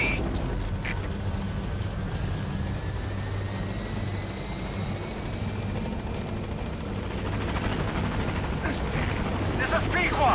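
Pequod, the support helicopter in the video game Metal Gear Solid V: The Phantom Pain, gives a steady low rotor drone as it arrives at the landing zone, continuous and fairly loud throughout with game radio voices talking over it.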